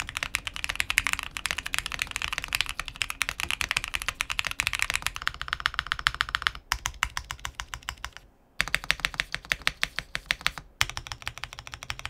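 Rapid, continuous typing on a QK75n mechanical keyboard fitted with PE foam, producing dense, close clacky keystrokes with a marbly character, briefly pausing twice before resuming; no voices.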